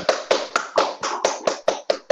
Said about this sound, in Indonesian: dengan memberikan eh, tepuk tangan ke Pak Jonan.